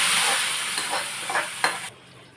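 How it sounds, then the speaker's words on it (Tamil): Hot fried tempering tipped into simmering pumpkin erissery with red beans, Palakkad style, giving a brief loud sizzle and hiss that fades out within about two seconds. "அடுத்தது நம்ம இதில் கொதிச்சுட்டு இருக்கு இல்லையா, அதில் இதில் போட்டுன்னுடலாம் தாளிப்பேன்"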